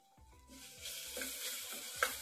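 Onions fry in a little oil for a mixed vegetable curry, giving a soft sizzle that builds and is broken by a few scraping stirs in the pan, with a brief louder clink near the end, all close and without talk.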